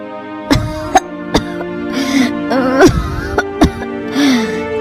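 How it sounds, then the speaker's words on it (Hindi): Several sharp, harsh coughs in short bursts, close by, with strained moaning vocal sounds between them. "ये कैसी खांसी है?"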